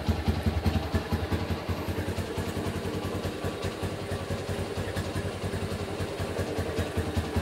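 Honda GL Pro motorcycle engine idling with no load, a steady close mechanical putter with rapid regular firing pulses and light clatter, running alone without talk throughout.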